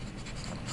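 A brief, close scratchy rubbing as writing is erased from a lecture slide, continuous for under a second with no voices.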